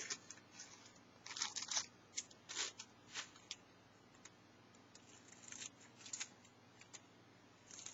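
Scissors snipping through a paper photo print for candle decoration: quiet, close, irregular crisp cuts in small bursts over a low steady background hum.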